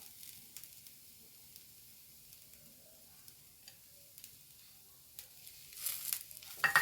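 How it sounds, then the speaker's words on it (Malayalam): Carrot and grated coconut being stirred in a pan for masala puttu, with a faint low sizzle and scattered soft scraping clicks that grow louder near the end. "ഇനി ഇതിലേക്ക് ക്യാരറ്റ് ഇട്ട് കൊടുക്കാം കേട്ടോ"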